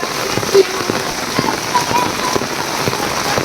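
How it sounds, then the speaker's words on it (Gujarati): Heavy rain pours steadily during a downpour in Surat, a dense, continuous hiss of drops hitting surfaces with scattered louder patters, close and unbroken throughout. "વરસાદ કઈ ઘટે એવું નહોતું."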